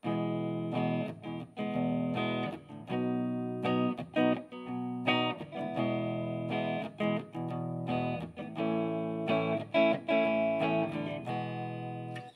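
Strummed guitar chords ring out in short bursts with brief gaps between them, loud and close, no voices.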